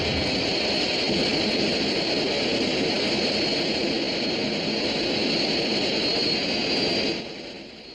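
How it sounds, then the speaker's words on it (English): A jet aircraft roars steadily and loudly overhead, a dense broadband engine rush with a high whine that holds for about seven seconds before suddenly dropping away. "that's some aircraft you got there"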